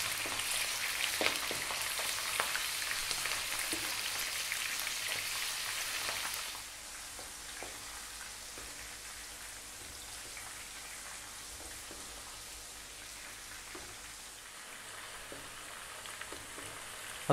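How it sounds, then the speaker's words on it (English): Green beans frying in hot oil, a dense steady sizzle throughout that starts louder and drops to a softer crackle partway through, close and continuous, with no voices. "We're gonna drop in our beans. And we're gonna fry them for about 4 minutes."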